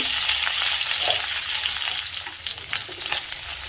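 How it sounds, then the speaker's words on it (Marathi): Cumin, garlic cloves, a pinch of hing and green chilli pieces fry in a spoonful of hot oil, a bright continuous crackling sizzle with quick spatters, close and alone. "लसूण आणि मिरच्या व्यवस्थित परतून घेऊया।"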